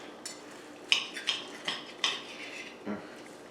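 Cutlery clinks against a plate while cutting into a fried Peruvian stuffed potato, papa rellena: four or five light close metallic taps and scrapes in a quiet room.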